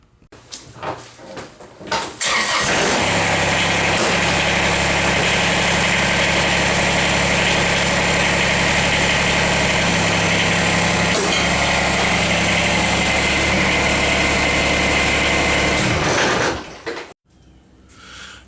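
A Kubota BX-24 compact tractor engine idles steadily and loudly for about fifteen seconds as it backs away from a detached snowblower, with a brief clunk midway and the engine cutting out near the end.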